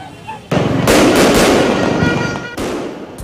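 Fireworks burst loudly and nearby at a Chinese New Year celebration in Binondo, a dense crackling barrage of pops and bangs that keeps going with only brief pauses.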